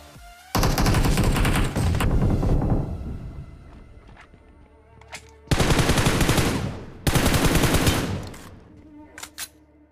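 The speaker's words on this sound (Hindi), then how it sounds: "आगे की तरफ से अभी भी फायर की आवाज़ आ रहा था" Gunfire in the Free Fire battle royale game comes in three loud, rapid automatic bursts, with a few short single shots and faint thuds in the quieter gaps between them.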